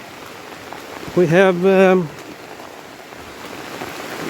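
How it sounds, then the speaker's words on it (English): Light rain falls at night beside a house, a steady soft hiss running throughout while a voice speaks briefly near the start. "It's raining a little bit here"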